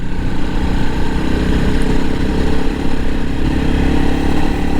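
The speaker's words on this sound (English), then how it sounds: "I'm on the 2021 Crf 300L rally" A 2021 Honda CRF300L Rally motorcycle is ridden on a rural road near Fort Seward, California, its single-cylinder engine droning loudly and steadily with wind rush throughout.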